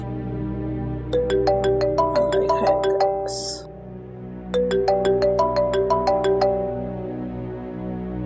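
A phone ringtone plays a bright repeating run of chiming notes, loud and close, then pauses briefly and starts again, with low background hum and no speech.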